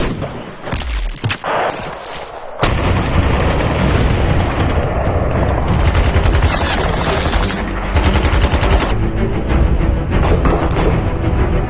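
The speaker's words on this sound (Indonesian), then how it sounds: "Sersan Arif sudah siap menembak dengan snipernya" Sniper and automatic gunfire ring out in a film battle scene, with a few sharp shots up front giving way to a long, dense, loud barrage of rapid firing and booms.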